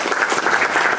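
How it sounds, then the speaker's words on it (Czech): Audience applause for Jaroslav Škvařil at the opening of a lecture event, a brief dense patter of many hands clapping steadily, fairly close and continuous with no voices over it. "Takže velký potlesk pro něj teď,"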